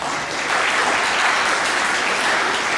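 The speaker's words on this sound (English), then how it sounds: "Give them all a big round of applause." Steady, dense applause fills a school awards assembly as the youth football team managers are honored, a sustained wash of clapping from the crowd.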